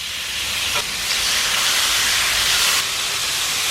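Marinated carne asada hitting a hot Blackstone griddle outdoors, a loud, steady broadband sizzle and hiss that swells slightly as the meat settles, close up with no talk.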